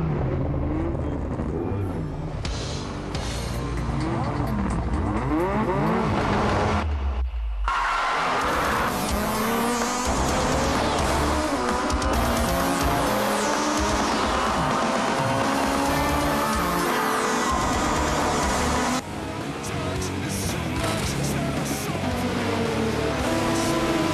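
Race car engines roar in the GTR Evolution racing game while tires squeal through skids, loud and nearly continuous, with a brief sharp dip in the engine noise partway through before the roaring and screeching pick up again.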